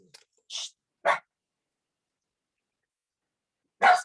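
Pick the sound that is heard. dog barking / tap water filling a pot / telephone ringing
dog barking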